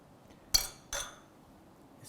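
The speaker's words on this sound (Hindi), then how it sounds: "एक चम्मच से इसकी जो साइड्स है ज़रा सा उसको मॉइस्ट कर लेंगे" A spoon taps twice against a dish while bread slice edges are moistened for bread rasmalai, two crisp, close metallic clinks about half a second apart in an otherwise quiet kitchen.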